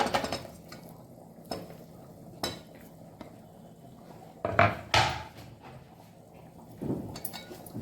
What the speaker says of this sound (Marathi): ही कापलेली बटाटी आपण त्याच्यात टाकून घेऊया